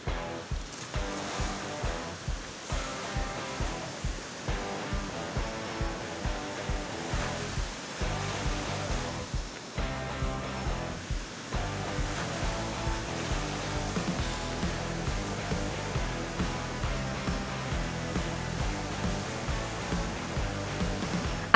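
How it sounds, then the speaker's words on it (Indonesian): Big ocean waves break at a surf beach in the Mataram region: a continuous, loud roar of churning surf with a rhythmic pulsing running through it. "Wah, baru masuk ke laut, ombak besar langsung menyambut kedatangan saya."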